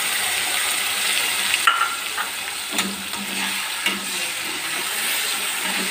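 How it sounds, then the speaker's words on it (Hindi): A ground paste of mustard, garlic, onion and ginger fries in hot oil with a steady close sizzle, broken by a few spoon scrapes and stirs. "और मसालों को तेल छोड़ने तक बहुत बढ़िया से भूनेंगे"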